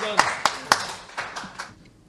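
Applause from an audience at a live QPR podcast event in 2016, heard as a few sharp separate claps followed by fainter scattered clapping that fades out over about two seconds.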